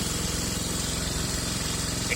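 Taotao Boulder 125 Chinese ATV engine running rough, a quiet steady idle with irregular popping pulses throughout, nothing else audible.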